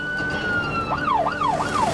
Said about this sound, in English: there are 5 marked patrol cars with lights and sirens on her tail